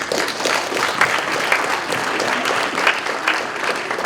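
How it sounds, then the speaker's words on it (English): An audience at a spelling bee championship in Canada claps in sustained, steady applause, a dense field of many hands heard at moderate distance filling the whole stretch without voices. "Let's give him all a big round of applause for a job well done."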